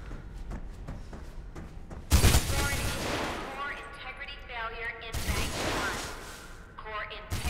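Bursts of gunfire in the video game Mirror's Edge, loud rapid volleys with crashing impacts interleaved with game voice and tones, a person talking faintly between the shots.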